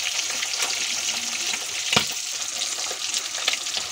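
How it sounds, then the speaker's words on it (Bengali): Sola kochu (taro) fritters frying in hot oil give a steady, close crackling sizzle with faint bubbling, a few sharper pops rising above the hiss and no voices. "এরকম ভাবে আমরা বাকি বড়াগুলো ভেজে নিই।"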